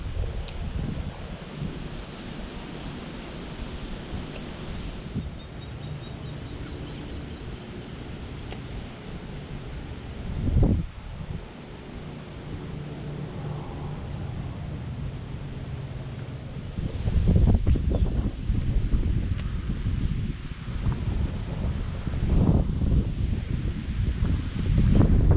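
Strong wind gusts at a pond in Largo Central Park Nature Preserve roar steadily into the microphone, with one brief louder buffet midway and a heavier, sustained rush toward the end.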